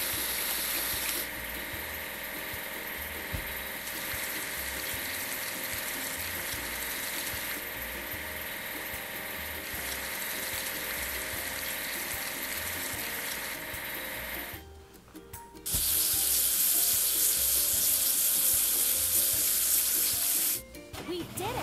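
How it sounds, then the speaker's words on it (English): Spraying water washes a truck in a kids' truck-building game, a steady rushing hiss that cuts out briefly, then returns louder and brighter. "Now we need to wash it clean."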